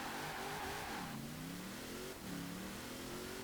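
A 2018 Formula Drift Nissan 370Z in Forza Horizon 4 revs hard and accelerates, its engine note climbing, dropping at a gear change, then rising again, loud and steady.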